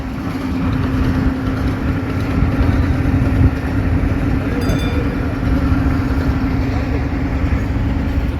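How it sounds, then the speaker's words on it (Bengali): A passenger launch, ML Aiman 1, arriving at a river jetty, heard as a loud, steady low engine drone with a constant hum and broadband rumble throughout, no clear change in pace. "এখন ঘাটে প্রবেশ করতেছে আমাদের ML আইমান 1 লঞ্চ"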